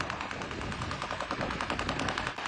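Rapid automatic gunfire aimed at drones over Moscow rattles in fast, dense bursts, a continuous stuttering clatter heard at a distance, faint but steady throughout.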